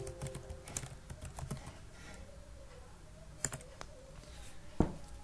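Typing on a computer keyboard as a Java program name is entered, a light patter of key clicks in small clusters with a few sharper, louder taps, quiet and close.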